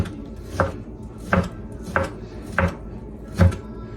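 Five sharp knife chops on a cutting board as round steak is cubed for smoked meatloaf, spaced roughly every second in an uneven rhythm, close and clear against a quiet room.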